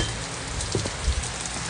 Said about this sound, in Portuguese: que tá essa chuva, um friozinho